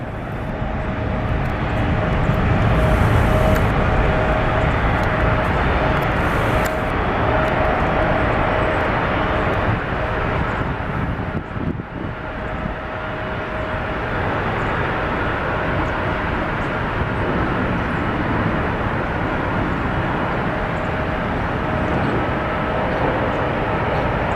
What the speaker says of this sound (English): There goes the Alaska 737-800.